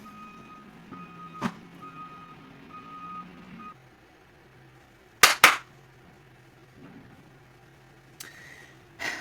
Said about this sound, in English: the trash truck just went by